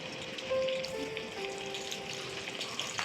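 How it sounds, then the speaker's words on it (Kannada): Onions fry in hot oil in a pressure cooker, giving a soft, steady sizzle with faint crackles and a few thin tonal squeaks. The sound is quiet and close, with no talk. "ಆಯಿಲ್ ಬಿಸಿ ಆದ ನಂತರ ಸ್ವಲ್ಪ ಆನಿಯನ್ನ ಹಾಕಿಬಿಟ್ಟು ಫ್ರೈ ಮಾಡಲಿಕ್ಕೆ ಬಿಟ್ಟೆ"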